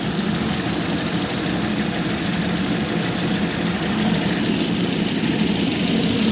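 An Opel Astra II Coupe Bertone 2.2 engine idles steadily and close by, a constant low rumble with an even mechanical hum and no voices, during a coolant system exhaust-gas test.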